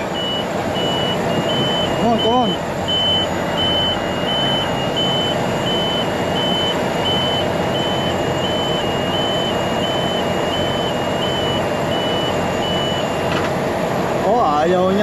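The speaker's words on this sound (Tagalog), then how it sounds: "Oh, merong alarm." A refrigerated reefer unit on a truck sounds a steady, evenly spaced alarm beep over loud idling engine noise in the cold. Someone speaks briefly nearby.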